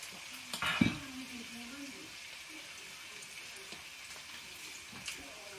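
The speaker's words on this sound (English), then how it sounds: "So we want to sear the outside of the beef, that's why we want a high heat." Beef sears in a pan over high heat, a faint, steady sizzle with a short clatter of the pan being shaken early on and a softer knock near the end.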